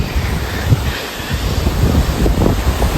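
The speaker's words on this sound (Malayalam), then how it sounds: "നല്ല കാറ്റുണ്ട് കേട്ടോക്കി." Strong wind blows beside a river in the Attappadi hills of Palakkad, a steady loud rumble buffeting the microphone with surging gusts and a wash like surf, no voices.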